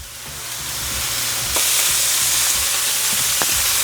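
Pork medallions sizzle loudly in a hot pan with avocado oil, a steady close crackling fry that swells and holds throughout with a few sharper pops, no voices.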